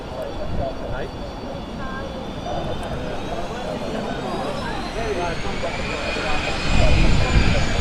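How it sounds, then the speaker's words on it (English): A business jet at Manchester Airport passes with a steady, loud engine roar and a rising whine throughout, swelling near the end, while people talk faintly in the background. "Decent looking bizjet."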